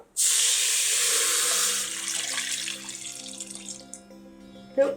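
Tamarind water poured from a cup into an electric pressure cooker while making drumstick sambar, a steady close splashing stream that thins out after about two seconds into trickles, with a brief clink near the end.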